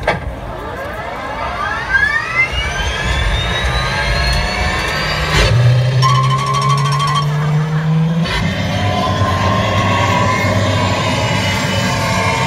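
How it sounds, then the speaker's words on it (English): A Titan robot show at a science festival produces a roaring, jet-like thruster effect that sweeps and whooshes loudly throughout, with a rising tone and a sustained low hum in the middle. "Initiating docking sequence. Engaging forward thrusters."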